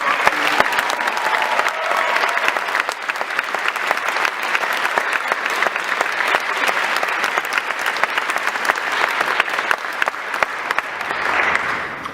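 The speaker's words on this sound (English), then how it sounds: "So I please give him a round of applause." An audience at a school awards ceremony claps in a steady, dense round of applause that holds for the whole stretch and fades slightly near the end.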